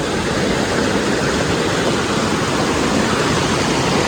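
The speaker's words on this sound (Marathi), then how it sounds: "इथे पाणी बघा अडवलेलं आहे आणि वर मित्रांनो धबधबा आहे" A waterfall and dammed stream in Tembavali village in the Konkan roar loudly and continuously at close range, a dense unbroken rush of falling water with no voices.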